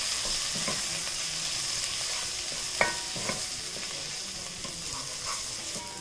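Kashmiri chilli powder, cumin powder and asafoetida stirred in a hot pan, a soft continuous sizzle with occasional scraping stirs and one sharper knock of the spoon.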